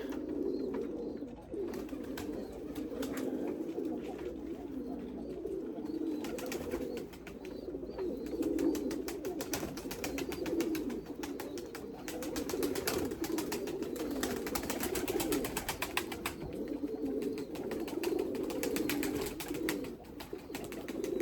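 Erzurum white breeding pigeons coo continuously in their loft, a steady layered murmur of several birds calling close by, with no talk over it.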